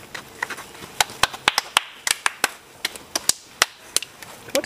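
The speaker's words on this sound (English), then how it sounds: "What is with the clapping?" Sharp, irregular hand claps ring out one after another at varying speeds, crisp and close, with a few faint voices in the background.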